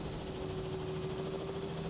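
A Robinson R66 turbine helicopter in Microsoft Flight Simulator gives a steady, even engine and rotor drone with a constant high whine, continuous and unchanging, with no talk.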